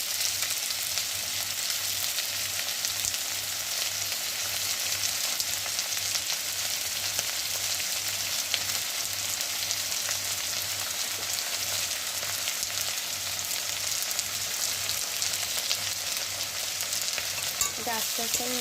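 Black cumin seeds and green chillies sizzle loudly and steadily in hot oil in a pan, with a constant close frying hiss and occasional stirring scrapes throughout.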